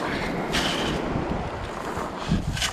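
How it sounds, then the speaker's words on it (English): Strong wind buffeting the microphone on a beach at Felixstowe, a constant loud rumbling roar with surf-like hiss and a few gustier swells, and no one talking. "Sorry about the wind"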